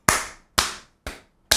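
Four separate sharp claps, evenly spaced about half a second apart, each ringing out briefly, close and distinct with silence between them.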